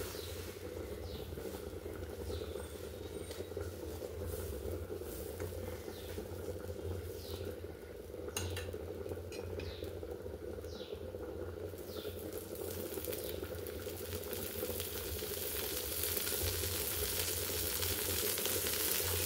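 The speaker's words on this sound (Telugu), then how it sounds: "ఇవన్నీ చికెన్ అయితే ఉడుకుతూ ఉంది" Chicken curry boils steadily in a pot with a soft, continuous bubbling and simmering hiss. A few faint clinks come through now and then, with no talking over it.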